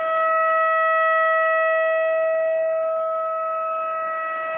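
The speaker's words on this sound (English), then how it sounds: "the sound you hear in the background is the warning sirens." Tornado warning sirens in Missouri wail in a steady, sustained tone for several seconds, loud and unbroken, slowly fading slightly toward the end with no voices.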